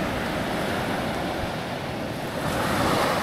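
Sea waves wash steadily onto the shore at a beach campsite in Lian, Batangas, a continuous broadband surf roar with some wind buffeting the microphone, close and unbroken, with no talking.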